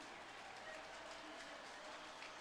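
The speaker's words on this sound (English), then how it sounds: "An enormous cheer" Distant, roaring crowd cheer at the velodrome finish of the 2007 Paris-Roubaix cycling race, a dense, continuous wash of noise heard faintly and evenly throughout.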